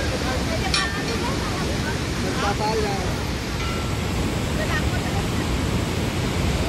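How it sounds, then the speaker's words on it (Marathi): The fast-flowing Saraswati river at Mana village in the Himalayas makes a constant, loud rush of water that stays steady throughout and carries no clear speech. "सरस्वती नदी"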